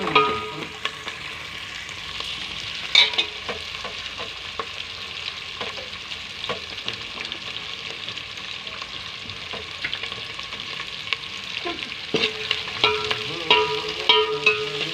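Onion and green chillies fry in a pan with a continuous close sizzle, broken by clinks and scrapes of stirring that grow busier toward the end.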